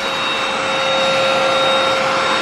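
A vacuum cleaner runs at its highest turbo setting, cleaning fine dust from a vehicle's seat area, giving a loud, steady, continuous whine with no pauses.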